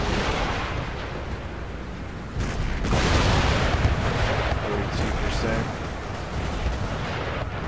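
Cannon fire in an Empire Total War battle from a Mughal campaign running the Darthmod mod: a dense, continuous barrage of rumbling booms and blasts that swells louder partway through, with no clear gaps between shots.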